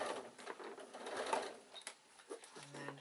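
A domestic sewing machine stitches across a zip on a baby bag, then back tacks, heard as faint, uneven short runs and clicks ending in a low steady hum.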